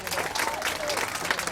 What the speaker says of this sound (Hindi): उनके लिए हमारे बच्चे जोरदार तालियां बजाएंगे